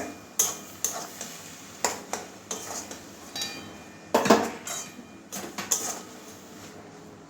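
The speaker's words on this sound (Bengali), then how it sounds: "তারপরে নাড়িয়ে দিচ্ছি আমার বাঁধাকপিটা" A utensil stirring cabbage curry in a pan, giving a series of irregular metallic clinks and scrapes against the metal, close and fairly loud, with short pauses between strokes and no talking.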